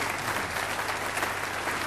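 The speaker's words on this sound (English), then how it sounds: "I think that deserves a round of applause" A studio audience at a chat show breaks into a brief, full round of applause, dense and even clapping from a crowd with no talk over it.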